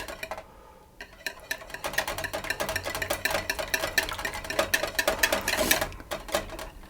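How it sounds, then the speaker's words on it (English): Whisk clinking steadily against a bowl or pot as hot liquid is tempered into a cream and egg yolk mixture for cream of mushroom soup, a fast rapid metallic scraping rhythm running alone and fairly close. "adding the hot liquid a little bit at a time, whisking it all the while"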